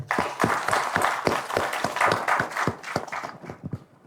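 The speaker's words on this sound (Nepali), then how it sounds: "एकचोटि यसलाई चाहिँ सबैले ताली बजाएर पास गर्छ" Audience members at a fintech leadership mentoring event clap together in a brief round of scattered, moderately loud applause that thins out toward the end.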